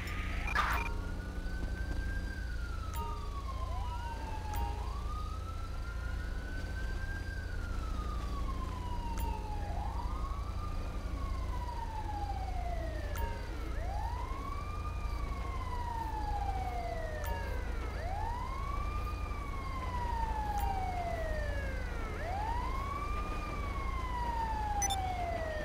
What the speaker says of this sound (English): Ambulance. Assistance required in Zancudo River.